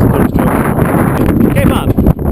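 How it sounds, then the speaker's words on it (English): Strong wind blowing across a sailboat out on bumpy water, roaring and buffeting heavily against the microphone in a constant low rumble, with people talking loudly over it. "it's really friggin' windy"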